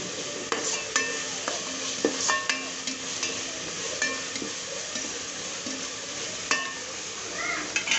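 Ginger garlic paste fries in a pan for bagara rice, a soft steady sizzle punctuated by repeated spoon scrapes and clinks as it is stirred.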